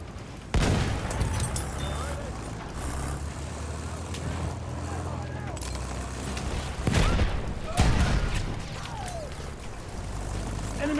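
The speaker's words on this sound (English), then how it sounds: "Enemy machine gun" Enemy machine gun fire in the shooter game Battlefield 1, heard as rattling bursts within a loud, rumbling battlefield mix with engine noise, while a player talks over it.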